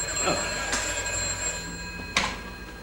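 A telephone rings with a thin, sustained electric bell tone, fairly faint against a quiet indoor background, with a sharper burst near the end.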